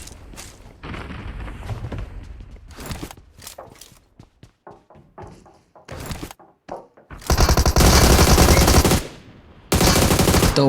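Gunfire in the mobile battle royale game BGMI, with scattered single shots and thuds early on, then long loud bursts of rapid automatic fire close up, one after another with a short gap, and no talk.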